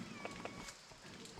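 A domestic cat waits for a piece of freshly broken coconut on a rainy day and gives a couple of faint, short meows, quiet and somewhat distant over low background noise.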